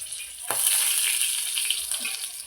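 Steady, bright sizzling of chillies and curry leaves frying in hot oil for kadhi tempering, continuous and close throughout, with a soft clink near the start.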